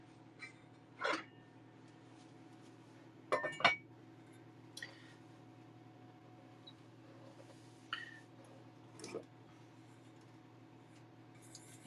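A lid is set over a cooking pan in a home kitchen, giving several light metallic clinks and clatters spread over a quiet background hum.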